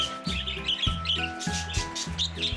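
Mixed birds of several species chirp in an aviary, with bright overlapping tweets and whistles over a repeated low pulsing call, close and fairly loud throughout.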